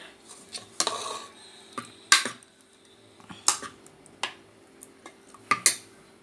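A spoon scrapes and clinks against a pot while papaya kootu is mixed, giving scattered sharp metallic taps and knocks at an uneven pace, close by and fairly quiet.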